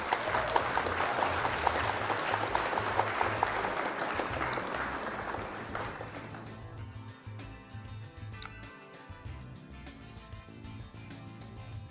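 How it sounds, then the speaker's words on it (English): Applause for an opponent after a Flesh and Blood card game match, a fairly faint patch of clapping in the first half that fades into quieter background sounds. "Round of applause for our opponent."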